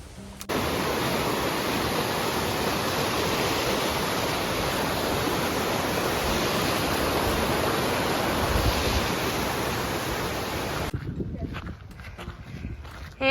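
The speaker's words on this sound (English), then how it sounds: "And it's raining again." Steady rain falls on the Appalachian Trail during a southbound thru-hike, a dense continuous hiss that holds near and even for most of the stretch before cutting off abruptly near the end, leaving faint drips and rustles.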